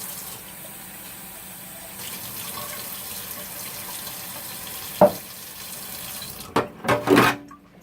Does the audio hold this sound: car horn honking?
no